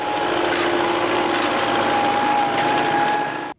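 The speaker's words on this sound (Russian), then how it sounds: "Трактор опахивает границы леса." A tractor plows a firebreak along a forest border, its engine a steady, loud mechanical drone with a faint whine that runs without a break and then cuts off abruptly.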